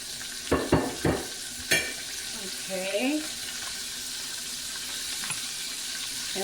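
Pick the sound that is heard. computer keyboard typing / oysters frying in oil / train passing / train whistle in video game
oysters frying in oil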